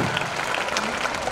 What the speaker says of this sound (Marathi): जोरदार टाळ्या एकदा वाजवा आमदार साहेबांसाठी.